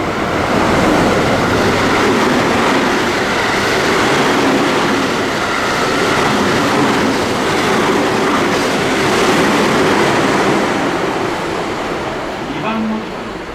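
A JR West Biwako Line train arrives at a station platform with a loud, continuous rumble of wheels and clattering rail noise, while a platform announcement plays over it.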